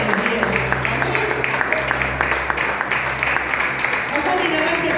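Congregation at a Spanish-language church service breaking into sustained, loud applause that fills the room, with music tones and voices mixed underneath throughout.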